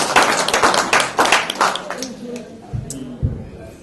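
A church congregation at a pastor's ordination claps together in a brisk, rhythmic burst that fades after a couple of seconds, followed by a voice speaking over the room.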